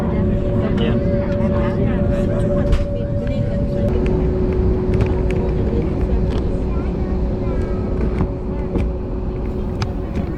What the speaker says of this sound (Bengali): বিমানটি নির্দিষ্ট সময়ে সার্ভিস লেন থেকে বের হয়ে মূল রানওয়েতে প্রবেশ করল। তারপরেই টেক অফ।